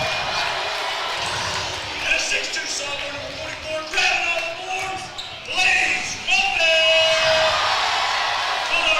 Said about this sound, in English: Blaze Ruffin, the crowd favorite, getting a thunderous ovation.